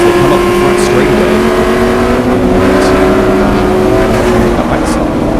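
Race cars at speed on the front straightaway at Circuit of the Americas during a 2024 GLTC race, a steady loud engine roar heard from inside a car, with a commentator talking over it throughout.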